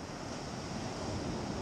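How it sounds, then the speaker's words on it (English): Ocean waves wash onto the beach at Talacre, Wales, near the lighthouse, as a dense, continuous roar of surf mixed with wind buffeting the microphone. "There's a nice wave coming in."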